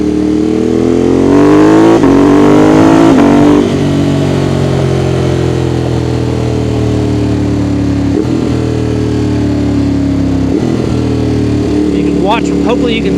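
A Ducati Monster 821 motorcycle on the road, its engine rising in pitch then dropping through rapid quickshifter downshifts, steady loud mechanical drone with brief blips; a voice talks over the engine.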